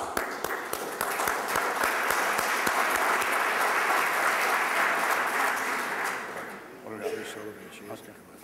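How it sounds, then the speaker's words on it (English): A city council meeting audience gives a steady round of applause that fills most of the moment, then fades as a voice begins speaking. "just raise your hand and give yourself a round of applause"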